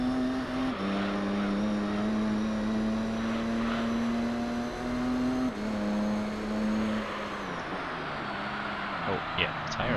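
A race car in Gran Turismo 3 career mode, with tyres already wearing after a few laps, holds a steady high engine drone that shifts pitch as it slides through a drift, continuous and fairly loud.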